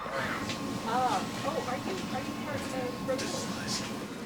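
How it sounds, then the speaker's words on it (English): A train rumbles into East Linton station with a faint metallic squeal, heard beneath steady chatter from people nearby. "the first train to arrive and then depart from East Linton."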